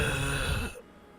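A voice imitates shallow, zombie-like breathing with a single rough, raspy exhale up close, which then cuts off abruptly into quiet.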